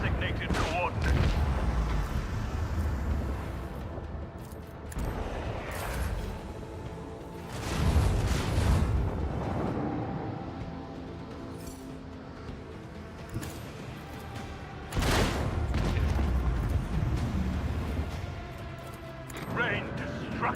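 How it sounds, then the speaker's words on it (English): Starship lance battery fire in the space combat of Rogue Trader, heavy booming blasts arriving in bursts around 0, 8 and 15 seconds, each trailing into a rumbling decay over a constant ship drone. "Unleash the power of our lance batteries."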